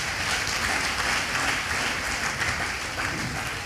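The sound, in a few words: congregation applauding at a prayer rally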